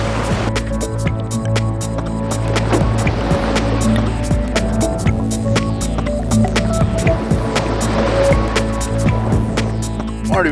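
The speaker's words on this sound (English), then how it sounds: "Our boat jumped over the rapids again and again and" A boat bounces through tidal bore rapids in Nova Scotia, with loud, continuous engine drone and rushing water, and repeated sharp knocks and slaps as the hull hits the waves.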